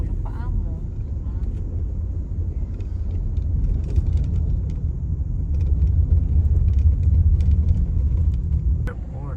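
A car creeps through heavy traffic on the Skyway near the airport, giving a steady low engine and road rumble that swells slightly midway, with faint muffled voices inside the cabin.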